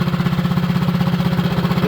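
A mini bike engine revving with no load, loud and close, with a steady rapid pulsing chug and a rough mechanical rattle that holds through the whole stretch.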